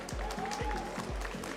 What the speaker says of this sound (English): The crowd are going crazy for you.